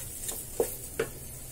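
Roasted maida flour with cardamom powder is stirred in a pan for halkowa barfi, giving a quiet dry rustle with three soft spoon taps or scrapes at an even pace, close up and alone.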